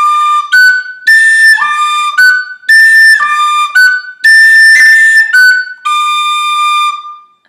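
Tin whistle plays the B part of the Irish tune Kitty's Rambles alone, a bright, close melody of short phrases separated by brief breaths, with clear articulated notes and occasional slides.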